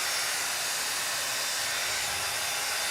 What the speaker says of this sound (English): you must use blower to dry